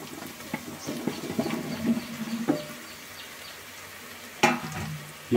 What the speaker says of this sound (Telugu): ఇప్పుడు దీంట్లోకి ములక్కాయ ముక్కలు కూడా వేసుకున్నాం.